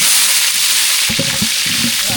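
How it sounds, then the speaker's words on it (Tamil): Mustard seeds and green chillies fry in hot oil for tempering a tamarind rasam, a steady bright sizzle with a few low stirring knocks near the end, close and loud without talk. "கடுகு நல்லா பிடிச்சிருச்சு பச்சை மிளகாய் சேர்த்துக்கலாம்"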